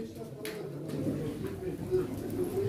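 Pigeons cooing at a pigeon auction in Çorum, low soft coos running continuously beneath a voice speaking.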